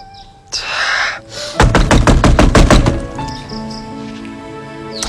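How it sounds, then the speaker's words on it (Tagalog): Rapid, loud knocking on a door in a drama scene, a burst of about a dozen sharp wooden raps in quick succession after some muffled noise, followed by quieter ambient sounds with no speech. "Eloisa, buksan mo yung pinto, please."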